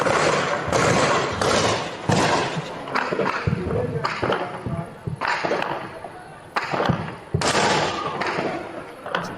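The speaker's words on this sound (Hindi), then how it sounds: "एक बार सुन लेते हैं किस तरीके से ब्लास्ट है।" Anti-aircraft gun blasts boom in rapid bursts, loud and echoing, with a few sharp cracks between volleys.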